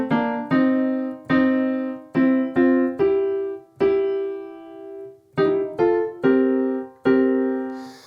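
Bluesy piano riff from the chorus transition of a song, played solo as about eleven struck chords and notes in two phrases, each ringing briefly with a longer sustained note midway, close and clear with no voices.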